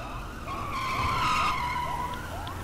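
Car tires skidding in the GTA 5 video game, a long screeching squeal with rising and falling pitch sweeps over a low engine rumble, loud and sustained for a couple of seconds.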